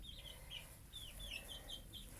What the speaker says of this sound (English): They're already pecking and they're chirping.